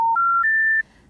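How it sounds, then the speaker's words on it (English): Three pure electronic tones of the special information tone for a non-working phone number step upward in pitch, each held briefly, the last one longest, then silence. "You know those three-note special information tones that signal a non-working number?"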